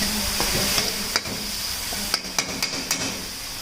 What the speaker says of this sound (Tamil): நல்லா அந்த நல்லெண்ணெயில் வெந்துடும்.